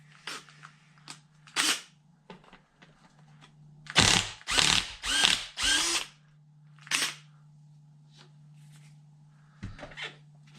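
Short, sharp bursts of a power drill or driver, some bunched close together, as a wheel is taken off a Traxxas Sledge RC truck, separated by quiet pauses and small handling clicks.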